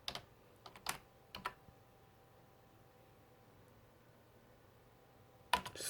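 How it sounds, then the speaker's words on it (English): A few quick bursts of keystrokes on a computer keyboard while a fastboot command is typed to unroot a 2015 third-generation Moto G, then a pause of quiet room tone and a final louder clack near the end. "you're just going to type fastboot"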